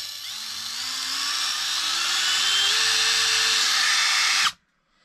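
A Parkside PBSPA12D4 cordless drill driver spins in second gear, its steady high whine rising slightly in pitch and loudness over about four seconds before cutting off abruptly, leaving silence.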